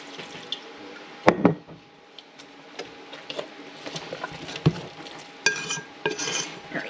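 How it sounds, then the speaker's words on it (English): Water is added to a sticky, slack bread dough and stirred in, giving wet squelching and scraping stirs with a few sharper knocks, close up and alone, with no talking. "so I am going to add a little bit more water."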